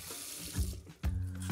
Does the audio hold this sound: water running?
yes